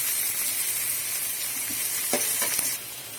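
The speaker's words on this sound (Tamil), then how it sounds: "கொஞ்சம் கண்ணாடி பதம் வர வரைக்கும் ஆனியன் வதட்டும்." Onions with curry leaves sauté in hot oil in a pan, sizzling steadily with a few scraping stirs near the end, close and loud with no voices.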